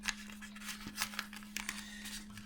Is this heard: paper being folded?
yes